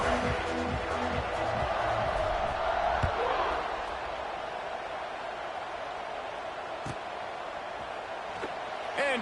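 Stadium crowd noise roars steadily throughout a college football game between Louisville and South Carolina in NCAA CFB 26, swelling early after a touchdown drive and then easing to a broad sustained din under a commentator's voice.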